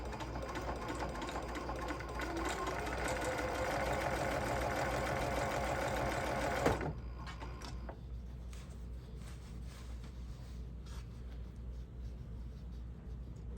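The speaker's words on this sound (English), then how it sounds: "I'm going to sew all around across each one of these straps." A sewing machine stitches across tote bag straps, running in a steady, close, continuous whir for about seven seconds before stopping abruptly into quiet.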